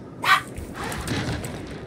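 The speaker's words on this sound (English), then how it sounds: "I hear the dogs." Dogs bark in a short burst behind the noise of a Gears 5 PC match, with one sharp bark near the start and then fainter, more diffuse yips.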